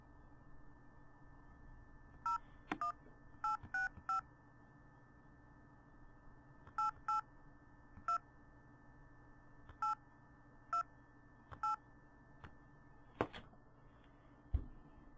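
Telephone keypad tones dialing a phone call: a series of short, clear beeps in uneven groups, some in quick pairs, with a faint steady hum beneath and no talking.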